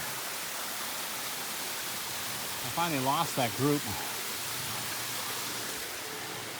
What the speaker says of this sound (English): This third waterfall just keeps going and going and going